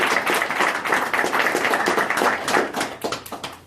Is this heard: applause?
yes